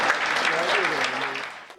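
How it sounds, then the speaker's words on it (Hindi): Brief burst of applause from the audience at a Hindi comedy poetry gathering, dense clapping that fades out toward the end with a voice faintly audible over it. "जोरदार तालियां।"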